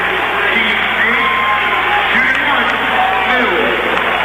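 Away crowd at a high school basketball game between Lafayette Central Catholic and Lafayette Jefferson roars steadily, with loud whoops, shouts and cheering filling a gymnasium throughout.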